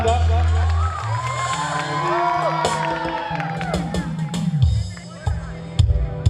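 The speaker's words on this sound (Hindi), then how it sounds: "जोरदार तालियों से स्वागत करें हमारी ज्योति जी का।" A crowd cheering and whooping to welcome a performer at a college cultural festival, loud shouts and excited voices over booming music and amplified announcing, clapping not clearly distinct.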